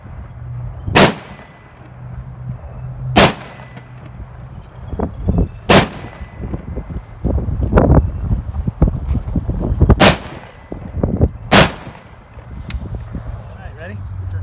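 H&K firearm shots ring out at an outdoor range, each sharp blast followed by a bright metallic clang from steel targets, about six loud impacts spaced irregularly, with people talking between shots.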